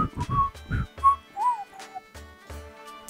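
A person tries to whistle and manages a few short, breathy, wavering tones broken by airy puffs and pauses, close and fairly soft, with no speech.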